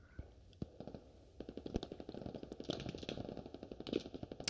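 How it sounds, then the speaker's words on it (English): Gunfire in the video game Squad crackles in rapid bursts of automatic shots, dense and somewhat distant, with faint voices in the background. "Guys, I can hear their gunfire."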